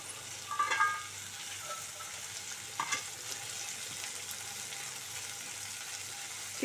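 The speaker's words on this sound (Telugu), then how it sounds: "ఇప్పుడు మనం ఈ అల్లం వెల్లుల్లి వేగుతుంది కదా, చిక్కుడుకాయలు మనం కడిగి పెట్టుకున్న చిక్కుడుకాయలు అయితే వేసేసుకుందాం" Ginger-garlic paste and broad beans frying in a pan, a steady soft sizzle throughout with a couple of brief stirring clatters near the start and around the three-second mark, no talking.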